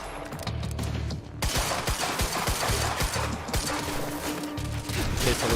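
Rapid, loud gunfire in Quantum Break, a string of sharp shots at an uneven rhythm over a mechanical in-game background hum and clatter.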